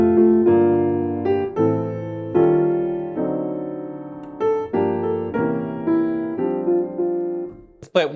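Solo jazz piano plays O Christmas Tree with chords, a series of close, ringing block chords struck one after another with sustained decays, ending on a brief clatter.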